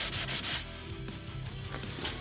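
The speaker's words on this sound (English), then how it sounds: "Then it was back to sanding." Sandpaper rubbing back and forth over a wooden cabinet drawer, progressing from 80 to 220 grit, in steady close scratchy strokes with a brief pause partway through.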